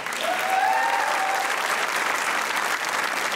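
A studio audience on a comedy talk show applauds, a dense steady roar of clapping with a brief whistle or cheer near the start.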